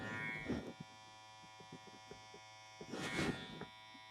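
Electric hair clippers tapering a high taper haircut give a steady close buzzing hum, swelling into two louder cutting bursts near the start and again toward the end.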